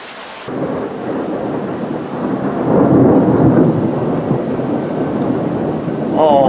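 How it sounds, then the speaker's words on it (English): Thunder rolls through a storm, with a long, loud, low rumble building in the middle and holding steady over steady rain, plus a faint voice near the end. "at least I caught the thunder"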